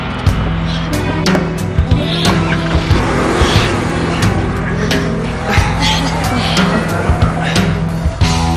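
A car drives off in a tense, hurried telenovela scene. The engine rumbles steadily under bursts of clattering, rustling and sharp knocks, all loud and close.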